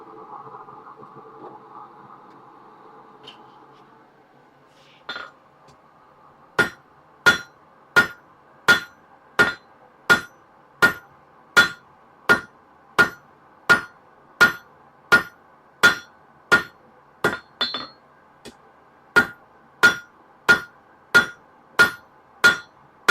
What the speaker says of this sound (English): this hammer is called a cross-peen hammer